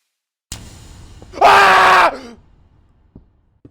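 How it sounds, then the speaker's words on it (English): Entity in Minecraft game footage screaming angrily: a single loud, harsh, distorted shriek lasting under a second, preceded by low rumbling noise and followed by a few faint knocks. "it's not just screaming anymore, it's angry"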